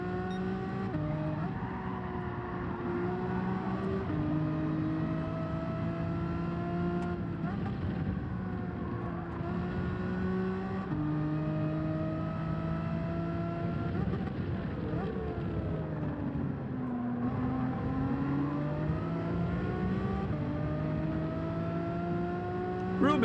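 A race car engine in Gran Turismo 7 whines through repeated accelerations and gear changes, pitch climbing and dropping in waves over a long continuous stretch, loud and close without voices.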